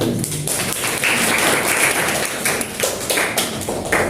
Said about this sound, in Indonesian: Oke, tepuk tangan untuk si publikasi.